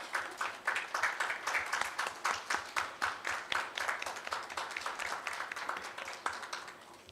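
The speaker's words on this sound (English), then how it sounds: "Audience, please put your hands together" An audience at a transplant coordinators' refresher course claps for a speaker being welcomed, with sharp, rapid, even hand claps forming a steady round of applause that runs on without break.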